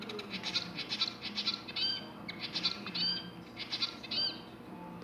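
A pet bird gives repeated bright chirps in quick clusters, fairly faint and close, with no one talking.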